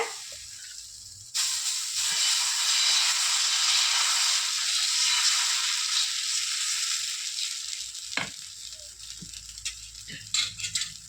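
Dosa batter made from Mappillai Samba rice and green gram poured onto a hot pan, a sudden loud hiss that holds steadily for several seconds before thinning into crackles and faint clinks.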